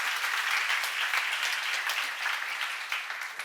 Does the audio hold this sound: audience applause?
yes